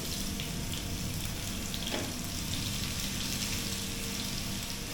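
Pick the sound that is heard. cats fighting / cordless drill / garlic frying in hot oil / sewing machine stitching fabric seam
garlic frying in hot oil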